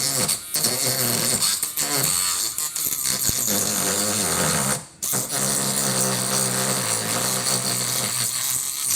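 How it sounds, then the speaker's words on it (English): A Dremel rotary tool set to low speed cuts through the middle of a plastic toy backpack piece, producing a loud, gritty buzzing grind that shifts and stutters as it bites, with a short break partway through. "I'm setting my Dremel to low, and I'm just starting through the middle to get this piece separated."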